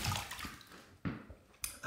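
Running water rinses a shaving razor in short splashy bursts, three distinct gushes separated by brief quieter gaps, close and fairly soft.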